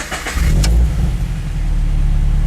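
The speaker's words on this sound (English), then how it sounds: "The car's idling." A Toyota 86 engine cranks briefly and catches with a loud flare, then settles into a steady low idle close by after an oil change, with no one talking.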